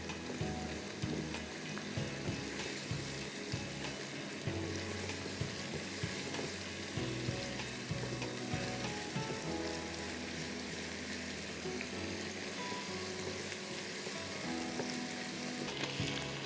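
Sliced tomatoes fry in a pan, sizzling loudly and steadily throughout with constant crackle and occasional stirring.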